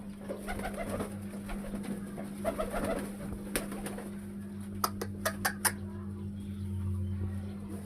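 Lotan pigeons coo in a pigeon loft, a low steady murmur running throughout, joined near the end by a few sharp, clear bird calls.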